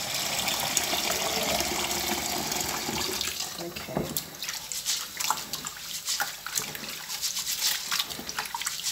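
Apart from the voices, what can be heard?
washing goat and chicken meat by hand in water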